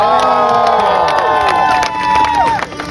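A large, close crowd cheers, shouts and whoops loudly and continuously, with high excited voices layered over a dense wall of noise.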